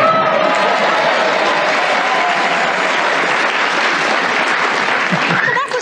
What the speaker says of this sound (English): I don't know whether you're clapping Linda's last remark